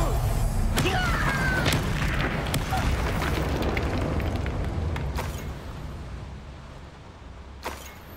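A Bombarda spell explosion in the video game Hogwarts Legacy: a loud, rumbling blast that slowly fades, with debris crackling and a couple of sharp pops near the end.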